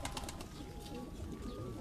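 Pigeons of a fancy breed kept by a fancier in Quetta coo softly at a distance against a steady background hum, with faint scattered chirps.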